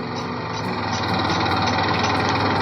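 A motorbike engine running near a temple in Barharwa, Jharkhand, a loud, steady mechanical drone with a rattling texture that holds constant and slightly swells partway through.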